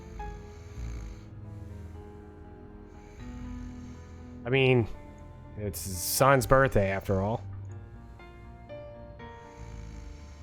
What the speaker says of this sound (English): you hear snoring. Boris is alive